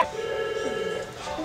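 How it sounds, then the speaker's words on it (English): A telephone rings on a film set during a shoot, a short electronic ring with sustained tonal bursts, fairly close and clear, with a brief voice at the very start. "Sorry, phone."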